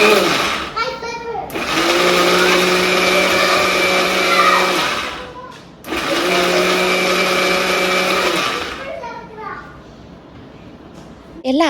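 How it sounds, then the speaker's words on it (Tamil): An electric mixie grinding chutney in its mixer jar, two loud sustained whirring runs each lasting several seconds with a short pause between, close up, with brief voices before and after. "மிக்சி ஜாரில் போட்டு அரைச்சி எடுத்துடலாம்"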